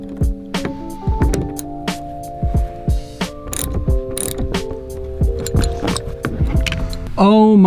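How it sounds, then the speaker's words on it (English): A ratcheting tool clicks and winds in uneven bursts while a seatbelt screw is loosened inside an old van being converted, with sharp metallic clanks and knocks close by and a voice coming in near the end. "We just got to untwist this screw."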